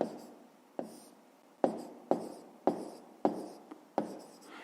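Handwriting on paper while working a 5th-grade maths exercise: a series of close, quiet pen strokes, each starting with a sharp tap and fading, repeating at a fairly regular pace with no talking.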